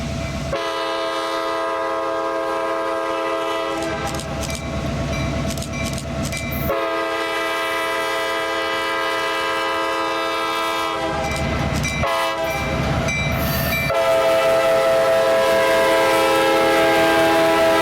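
A gray Kansas City Southern freight train rumbles past close by in Kansas, its horn blaring in loud sustained blasts over the heavy rolling clatter of the cars.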